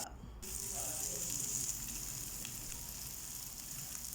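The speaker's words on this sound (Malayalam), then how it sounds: "ഒരു വലിയ സവാള സ്ലൈസായിട്ട് അരിഞ്ഞത് വഴറ്റുക" Sliced large onion sautéing in half a spoon of oil in a pan: a continuous, even sizzle, close and moderately loud, with no talking.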